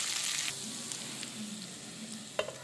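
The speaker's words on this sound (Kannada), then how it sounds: "ಸ್ಟವ್ ಇದು ಪ್ಯಾನ್ ಮೇಲೆ ಹಾಕ್ಕೊತೀನಿ, ಇವಾಗ ಫ್ರೈ ಮಾಡ್ಕೊತೀನಿ." Cucumber pieces frying in a pan on the stove for a Mangalore cucumber chutney, a close, steady sizzle with a few light scrapes and a sharp clink near the end.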